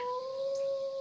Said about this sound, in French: Jenkins, tu entends du côté de la forêt des hurlements de loups.